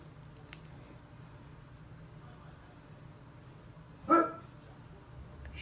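A dog gives a single short bark at mid-distance in a quiet kitchen where beef, mushroom and red onion kabobs are being assembled, with low background hum before and after.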